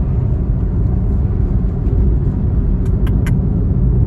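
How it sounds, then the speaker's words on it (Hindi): A Maruti Suzuki Baleno speeds hard during a drag race, its engine and road noise a dense, steady low roar with a few brief higher blips near the end. "भाई तगड़ी भाग रही है गाड़ी तो"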